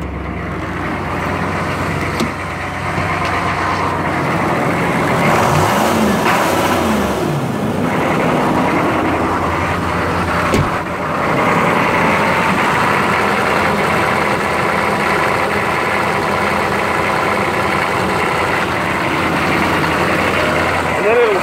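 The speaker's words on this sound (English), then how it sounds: "it'll start racing all of a sudden, all on its own. Just goes crazy, like someone's hitting the throttle." A GMC dually pickup truck, started cold, idles and then surges on its own, the engine rising and falling in pitch as if the throttle were pressed, loud and close throughout with someone talking over it.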